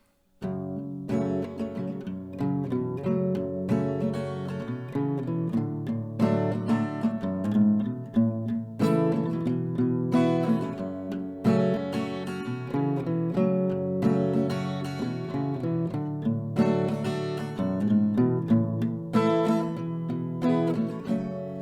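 Acoustic guitar strummed in full chords with melody notes picked out on top, steady rhythm, close and fairly loud, no talking.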